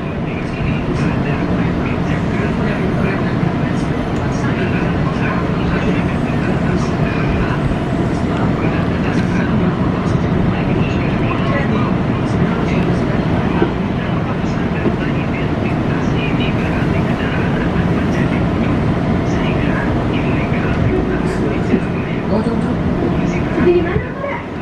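A train passes through Jakarta Kota railway station with a loud, steady, broadband rumble that holds for the whole stretch without letting up.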